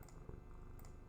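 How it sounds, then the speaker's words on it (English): A domestic cat purrs close by in a faint, steady low rumble under a soft background hiss, with a couple of light clicks. "if you can hear purring and all that"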